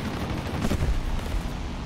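Aircraft guns firing in the War Thunder combat game, with dense rapid gunfire rattling through under a voice and engine rumble, heaviest near the middle of the brief moment.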